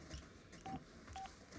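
Two short electronic telephone keypad tones, quiet and evenly spaced, sound as a number is dialed, with faint room noise between the beeps.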